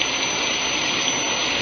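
Steady broadband rain hiss in a radio drama, a continuous even wash of falling water with no breaks, loud and close for the whole stretch.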